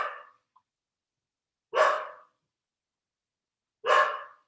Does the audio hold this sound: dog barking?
yes